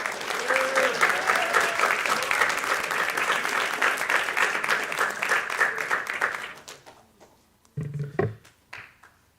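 An audience applauds a graduating student at a school graduation ceremony, with sustained dense clapping for about six seconds that fades out and is followed by a few scattered claps and thumps.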